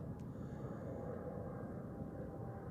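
Airliner bound for Dubai taking off from runway 16 at Zurich Airport, a steady, fairly distant low roar of jet engines holding evenly throughout with no voices.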